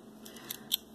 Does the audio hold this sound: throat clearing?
no